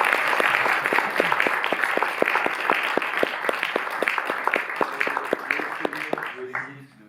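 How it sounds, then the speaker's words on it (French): A cinema audience applauds steadily, many hands clapping in a dense, even patter that fades out at the end, with voices murmuring underneath. "on peut applaudir quand même, Marc."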